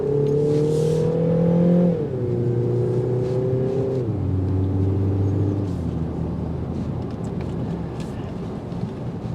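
A 2025 Mini Countryman S All4 engine accelerating through the gears, loud and steady, its rising drone dropping in pitch at each of several shifts.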